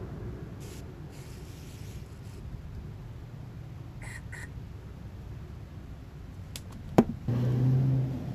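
A few short hissing bursts of aerosol carburetor cleaner sprayed on an outboard motor carburetor sound faintly against a quiet background, followed by a sharp click and a low hum.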